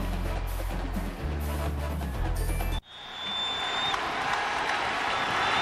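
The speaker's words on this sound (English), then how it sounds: "this crowd here at Reliant Stadium trying to urge the Cougars on" Stadium crowd at a Miami vs Houston college football game at Reliant Stadium, cheering and roaring continuously as a dense loud wash, with a brief dip midway before the crowd noise swells again.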